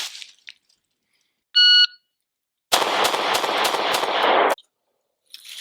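A shooting timer beeps once, then a Sig P365 pistol fires five rapid, loud shots at a range target, evenly spaced over about two seconds.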